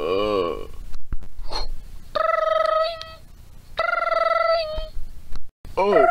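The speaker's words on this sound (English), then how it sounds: "Oh, hey, my phone's ringing." A phone rings twice in loud, clear, bell-like bursts of trilling tones, with a voice speaking just before and after.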